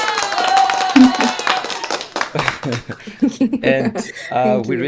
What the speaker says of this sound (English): We need to give our guest the famous applause, the VBO applause.